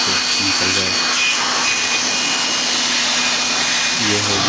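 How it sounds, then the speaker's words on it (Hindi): An electric air blower runs steadily and loudly while cleaning a 12V DC power supply, a continuous whooshing roar with a faint high whine, and someone talking underneath. "अब हम ब्लोअर की मदद से इसकी सफाई कर लेंगे।"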